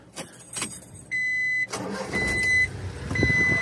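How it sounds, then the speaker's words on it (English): A Honda Acty kei truck's small engine cranks with a chime ringing, then catches and starts up, settling into a close, running idle with a warning tone beeping intermittently. "Start her up, make sure everything's good."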